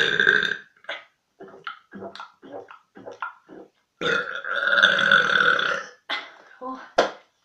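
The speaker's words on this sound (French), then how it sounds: "je rote tout le temps de toute façon" Repeated burps from a person who has just eaten ice cream, a string of short croaky belches followed by one long, loud drawn-out burp and a few more quick ones, close and dry with no talking.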